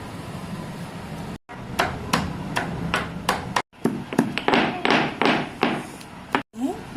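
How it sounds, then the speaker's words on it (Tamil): Small onions (shallots) are lightly pounded in a kitchen, a close series of sharp taps and thuds in an irregular rhythm with short pauses between bursts. "அடுத்து சின்ன வெங்காயம் இதை நம்ம லேசாக தட்டி எடுத்துக்கலாம்"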